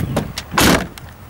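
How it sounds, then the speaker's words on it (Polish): The bonnet of a 1998 Mercedes-Benz CLK 430 V8 coupé pops open with a short mechanical clunk after a couple of faint clicks, close by and with no talking. "Maseczka odskoczyła."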